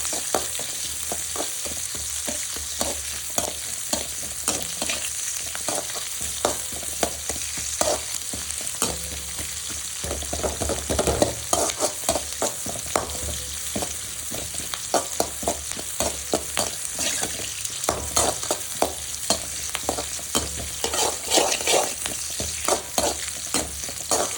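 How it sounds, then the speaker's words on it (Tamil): Chopped onion and green chilies sauté in hot oil for a chicken kulambu, giving a continuous close sizzle broken by frequent scraping stirs of the pan, with no talking. "எண்ணெயில் போட்டு நல்லா வதக்கிடுங்க."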